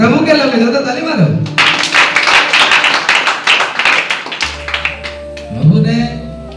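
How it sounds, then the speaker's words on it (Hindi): A church congregation claps together during a Hindi sermon, a dense burst of many hands lasting several seconds between stretches of speech, with a low hum underneath. "ज्यादा ताली मारो।"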